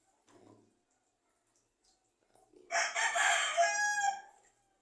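A rooster crows once, loud and close, in a long drawn-out call after a few faint sounds.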